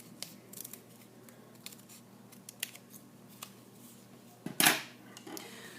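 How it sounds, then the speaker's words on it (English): Scissors snip through teal felt bear pieces in a quiet room, a sparse series of soft close cuts capped by one sharper, louder snip near the end. "Again, I'm cutting along the black line."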